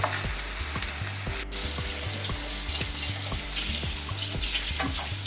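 Mutton kaima vada patties sizzle and crackle steadily in hot oil over a low flame, turned to brown on both sides, with a continuous close frying hiss and occasional soft clinks from the utensil.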